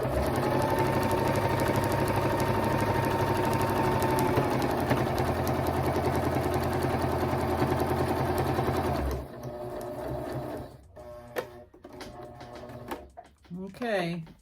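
A sewing machine stitches a king-size pillow sham with a steady, close mechanical whir for about nine seconds, then stops as a person starts talking over quieter handling sounds.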